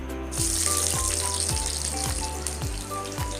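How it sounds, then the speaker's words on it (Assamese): Onions frying in hot oil in a kadai, a steady broadband sizzle with a crackling hiss that runs continuously and close up. "পিঁয়াজখিনি ভালদৰে ভাজি ল'ম।"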